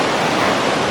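Silima 5 waterfall in Simaninggir village, Marancar, Tapanuli Selatan roars in a dense, steady, loud rush of falling water, unbroken throughout with no voices.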